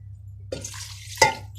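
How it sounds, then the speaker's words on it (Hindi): Water from a glass poured into a pot of desi chicken soup (murghi shorba) on the stove: a short splash, then a second brief burst of pouring, close and fairly quiet over a low steady hum. "ये मैंने तकरीबन 1 गिलास पानी डाल दिया इसमें।"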